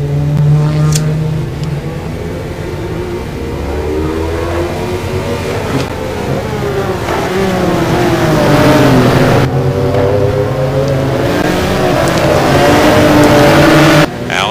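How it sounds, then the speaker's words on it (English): A Ferrari GT1 race car engine in a sim racing game at Interlagos drones loudly and close, revving up through the gears with rising and falling pitch over a sustained roar. "Greg stretches the legs out on that Ferrari and keeps it motoring through"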